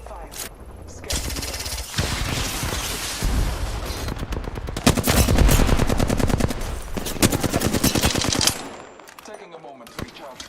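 Gunfire in the video game Apex Legends, with rapid automatic bursts and loud sustained volleys over several seconds, dense and close, stopping abruptly near the end.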